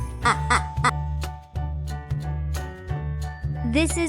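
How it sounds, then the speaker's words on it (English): Duck quacks from a farm-animal lesson, several short nasal calls spread across a few seconds with a final louder burst, fairly close and clear, with a voice naming the animal between calls. "This is duck. D-U-C-K."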